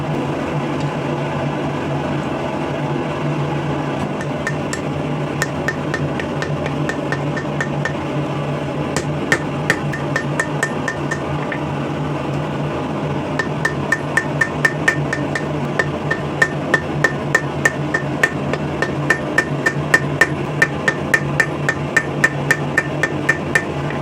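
A blacksmith hammering a steel rivet header tool made from scrap steel, with a long series of ringing metallic blows that start sparse and grow into a quick, steady rhythm over a constant background hum.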